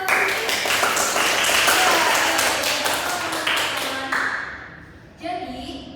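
Classroom applause during a micro-teaching lesson, with a group of students clapping in a lively burst that fades off, then a brief tonal ring and some clatter, with a voice talking underneath.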